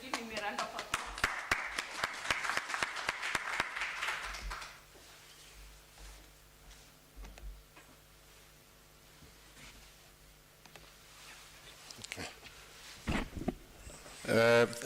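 Applause from a conference audience at a university research week opening, many hands clapping for several seconds before fading into quiet room sounds, followed later by a voice.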